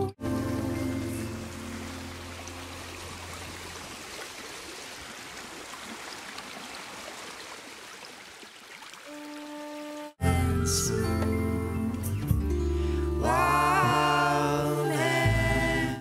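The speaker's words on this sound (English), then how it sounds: "Looks like I just was doing some panning of the water, going from the left to right and then right to left at the very end there." A flowing water sample in a music production session rushes steadily like rain or a stream for about ten seconds, fading slightly, before dense music cuts in abruptly.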